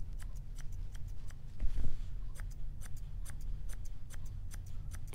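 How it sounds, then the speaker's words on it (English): Blending shears trim a puppy's hair short and tight along the side of the skull, a quick run of crisp snips in an even rhythm, close and fairly quiet, with one brief duller rustle midway. "I'm going to scissor this pretty short and tight right to her side skull"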